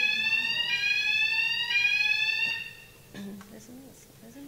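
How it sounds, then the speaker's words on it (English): A fire alarm blares loud and steady with a shrill electronic tone for about two and a half seconds, then cuts off, followed by faint background noise and murmuring. "oh, that's the alarm"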